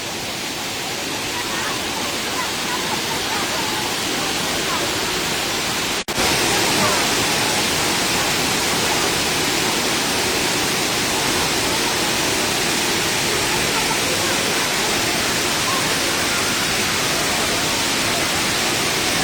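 Steady rushing water flows without a break, loud and close like a stream or small cascade, with a brief click partway through and no clear speech.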